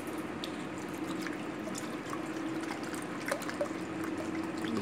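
Water is poured into a bowl for a thirsty pet just home from the vet; a faint, continuous trickle and patter runs under a low steady hum, with a few small splashes toward the end.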